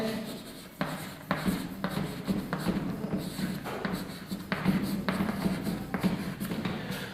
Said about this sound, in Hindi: इसको मिटाकर एक और नंबर लिख लेते हैं